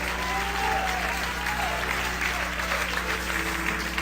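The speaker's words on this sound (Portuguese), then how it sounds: "Isso merece uma salva de palmas maior" A church congregation applauds during a sermon, giving a loud, continuous wash of clapping from a large crowd that stays steady for the whole stretch.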